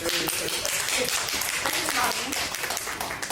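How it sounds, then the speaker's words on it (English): Live audience clapping at a talk-show taping, a dense, steady patter of many hands that holds loud for several seconds, with voices mixed in underneath. "Clap it up for that."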